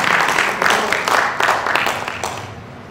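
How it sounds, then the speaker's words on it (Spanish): An audience at a conference on reinventing Freire in the new Mexican school claps to welcome a speaker, a moderately loud wash of applause with rhythmic swells that gradually fades toward the end. "damos la bienvenida con un fuerte aplauso al doctor Luis Miguel Cisneros Villanueva"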